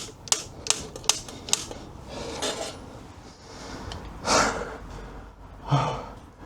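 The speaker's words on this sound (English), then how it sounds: "I'm not sure why it's clicking. I think that's it freeing from the threads." Sharp clicks from a threaded part on a BMW E46 cooling system working free of its threads, a quick run of four or five close clicks, then softer scraping and breathy straining sounds.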